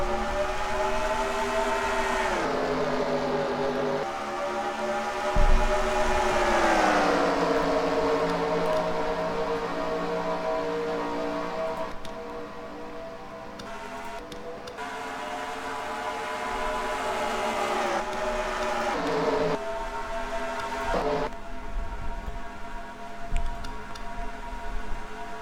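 Race cars in a Daytona 500 video game event roar together at the green flag, a dense, loud engine drone with pitch swells rising and falling as the pack accelerates, steady throughout with no talk.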